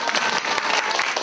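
Audience applause at a 2025 Korean regional dialect speaking contest, sustained dense clapping from a crowd filling the hall, steady and fairly loud throughout with no gaps.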